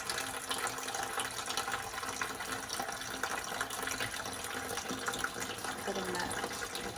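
A freshly cut aloe leaf is rinsed under running tap water, a steady, fairly quiet splashing rush that continues evenly, with a voice faintly present underneath.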